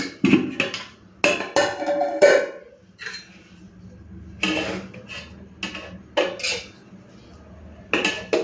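Rice is served onto a plate, with a run of close, irregular clinks and scrapes of dishes and cutlery, bursts coming in uneven clusters separated by short quiet gaps.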